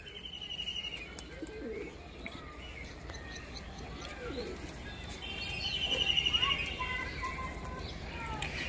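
Pakistani teddy pigeons coo softly in a loft, low murmuring calls mixed with occasional chirps and a brief flutter of wings, all fairly faint against a quiet background.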